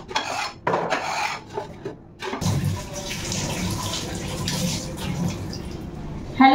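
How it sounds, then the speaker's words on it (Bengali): Scrubbing and wiping of a kitchen gas stove and countertop slab, a steady close rasping rub that runs continuously with brief pauses and faint clatter near the start. "এখন কিচেনটা পরিষ্কার করছি, সাথে গ্যাস ওভেন স্ল্যাব সমস্ত কিছুই।"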